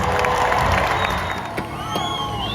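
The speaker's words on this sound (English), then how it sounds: "Round of applause!" Crowd at a Universal Studios Hollywood show cheering and clapping, a loud, dense roar of applause with whoops and shouts from many people, including children, holding steady before easing slightly near the end.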